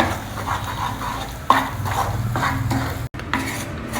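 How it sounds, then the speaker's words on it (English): Ground dal being stirred in ghee in a heavy kadai or non-stick pan over a low flame, with a steady scraping, rubbing rhythm and soft clinks of the spoon against the pan, close and fairly quiet. "Now stir it well in the ghee."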